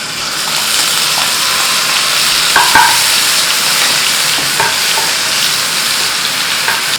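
Ground paste of three onions frying in oil and butter for a vegetable manchurian gravy. A loud, dense, continuous sizzle runs throughout, broken by a few light clinks of the utensil, with no speech.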